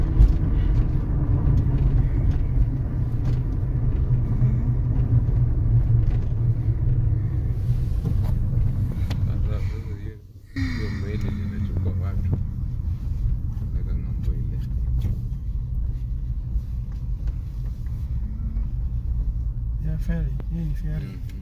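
A vehicle rolls onto a public ferry on a lake, a steady low engine rumble and road noise throughout, with a brief dip midway and people talking over it.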